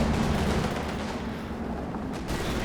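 Dense battle gunfire from the Company of Heroes 2 strategy game, a 4v4 match, roars without a break, with overlapping shots and blasts filling a loud, steady wall of noise and no talk.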